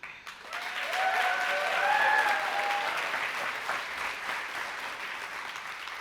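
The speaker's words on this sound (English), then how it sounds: "I appreciate the applause." Audience applause following an award acceptance speech fills the room, a steady wash of many hands clapping that swells after a moment and holds at moderate level throughout.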